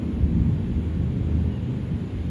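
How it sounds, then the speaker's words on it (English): Low, rumbling thunder rolls on continuously on a rainy day in Singapore, a deep steady roar that stays distant and contains no speech. "Oh, you can hear the thunder rolling."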